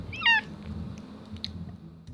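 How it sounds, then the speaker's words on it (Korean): A single short cat meow near the start, fairly close and clear, from a house cat crying to have its rear patted, followed by quiet room background with a few faint clicks. "여러분은 엉덩이 두들겨달라고 저렇게 울어대는 모모를 참을 수 있겠는가"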